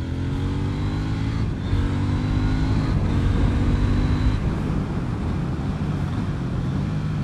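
A 2018 KTM Duke 790 motorcycle accelerates hard on open throttle along a road, its engine note climbing through gears in rising sweeps, close and loud without speech.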